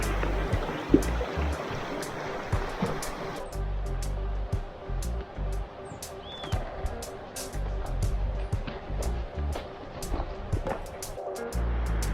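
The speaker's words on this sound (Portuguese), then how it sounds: "Já dá pra escutar o barulho da cachoeira." A stream runs with a steady rush of water along a rocky trail toward a waterfall, the falls a distant broadband roar beneath scattered clicks and footsteps, continuous and moderately loud.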